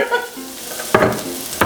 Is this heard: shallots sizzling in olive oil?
yes